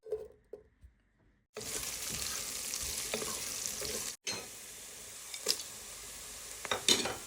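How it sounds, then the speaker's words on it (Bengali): Whole spices and onion hit hot oil with a sudden loud sizzle after a few quiet pan knocks, frying steadily with a brief break and occasional clinks of a utensil against the pan. "একটু পেঁয়াজের সাথে মশলাগুলো ভেজে নেব"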